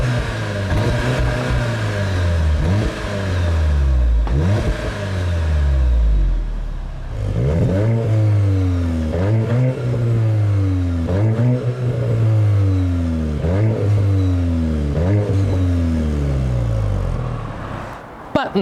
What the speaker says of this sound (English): let's rev them both up from the outside and let's see what they sound like.